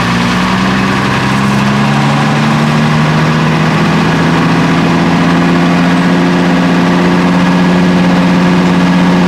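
A 30 kW generator engine runs loud and close, its steady drone rising slightly in pitch as the throttle is brought up to 60 cycles.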